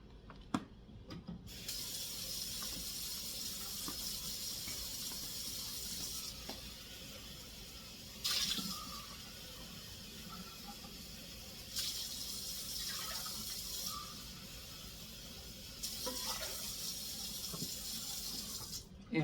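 Cold water running from a kitchen tap into a pot, a steady hissing flow that holds for long stretches and is broken by a few brief clanks and pauses, faint and close.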